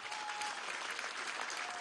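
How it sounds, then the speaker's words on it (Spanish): Applause from a crowd at a Venezuelan government ceremony celebrating the CLAP programme, saluting the Bolivarian National Armed Forces; quiet, distant, even clapping across the whole short stretch. "Un aplauso a la Fuerza Armada Nacional Bolivariana"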